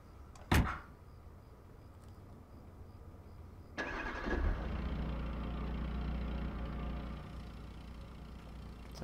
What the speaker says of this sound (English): Now get in the car and start it up.